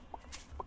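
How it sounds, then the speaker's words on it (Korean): Two short, faint clucks from a chicken in the video game Tree of Life, quiet and spaced apart with no talk. "닭 있다, 닭."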